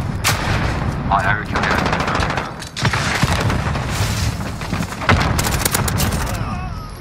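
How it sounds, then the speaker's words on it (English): Heavy booms and rapid gunfire in Call of Duty: Modern Warfare, with loud blasts and bursts of shots layered together, while someone briefly talks over the action. "Stop fucking rocket launching."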